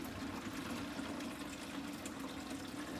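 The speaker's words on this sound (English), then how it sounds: "once we're finished putting the hot water in" Hot water pouring steadily into a Pinter home-brewing vessel for a public house IPA, a continuous close rushing, gushing flow filling the container without a break and with no talking.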